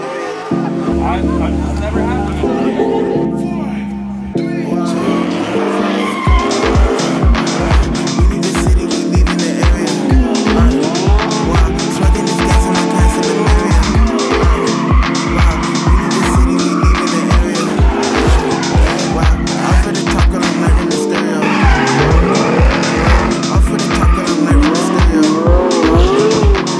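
A car drifting at a PIT drift event, with loud sustained tire squeal and rapid pulsing engine revs for most of the stretch after a brief quieter opening, voices faintly present.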